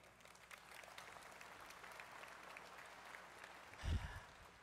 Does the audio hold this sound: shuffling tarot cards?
no